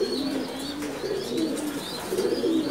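Racing pigeons in a breeding loft give repeated soft, throaty coos, close and overlapping in a steady cooing chorus with no talking.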